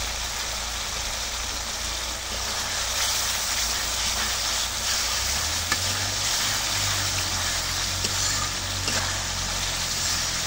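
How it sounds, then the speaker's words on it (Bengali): Masala for a beef curry sizzles and fries in a pan while being stirred, a steady soft hiss with a low rumble underneath and occasional faint clinks. "এখন মশলাটা কষানো হয়ে গেছে"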